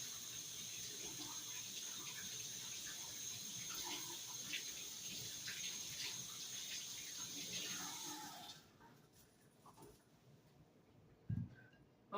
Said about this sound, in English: We washed them with cold water.